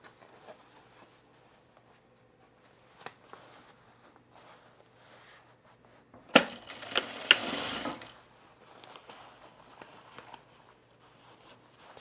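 A sewing machine runs a short burst of stitching along a seam on men's cargo shorts, a fast mechanical whir of about a second and a half, with quiet handling noises before and after.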